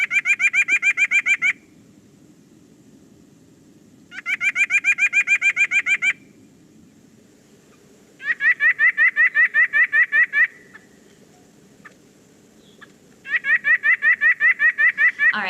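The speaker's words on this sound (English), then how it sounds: "so that's the white-breasted nuthatch" A white-breasted nuthatch gives its nasal, rapid repeated calls in four separate bursts, each a quick string of bright, evenly spaced notes separated by quiet gaps, heard clearly and fairly close.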